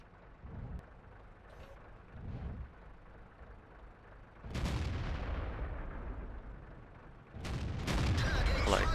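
World of Tanks tank cannon firing from a corner position, heavy booming blasts with long rumbling decay, one near 4.5 seconds and another near 7.5 seconds over quieter low engine rumble.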